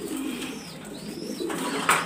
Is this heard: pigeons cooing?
yes